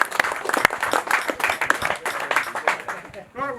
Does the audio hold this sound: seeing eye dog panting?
no